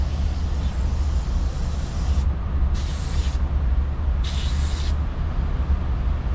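Non-flash electro contact cleaner sprays onto a Cummins ISL9 injector harness, a steady loud aerosol hiss interrupted by a few short gaps as the nozzle is pressed and released, with no voices.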